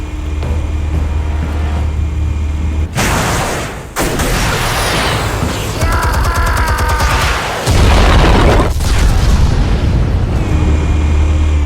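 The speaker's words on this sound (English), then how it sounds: "Explosives armed. Fire when ready." Explosives detonating in the Batman: The Telltale Series game: a loud booming blast with rumbling debris and crackling bursts that fill the scene, low rumble lingering throughout.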